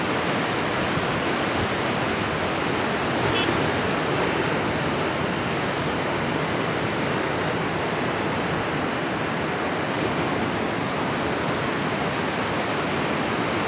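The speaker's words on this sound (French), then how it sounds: "On a l'impression que la vague, elle arrive juste pour eux." Ocean waves breaking on a shore: a steady, dense wash of surf noise, continuous and fairly loud with no distinct breaks, heard alone without voices.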